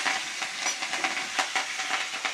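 Green chillies and curry leaves hit hot oil while tempering a carrot and beetroot vegetable dish, giving a steady close sizzling hiss peppered with small crackles and pops, with no voices.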